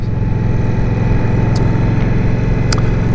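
An Indian Scout Rogue Sixty small cruiser motorcycle runs steadily while being ridden, a loud, continuous low engine drone with wind noise and no talking.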